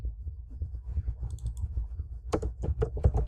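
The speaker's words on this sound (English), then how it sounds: "As I am typing" Someone types on a computer keyboard, producing quick, close, faint clicking keystrokes in uneven bursts, with a denser flurry of taps toward the end and no one talking.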